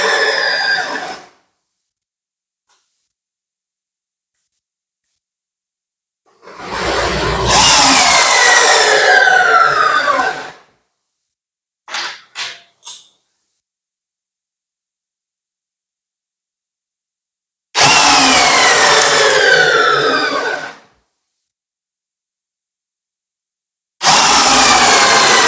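A Beckum EB2 12V cordless drill runs in three loud bursts of a few seconds each, with a couple of quick short blips between them and silence in the gaps.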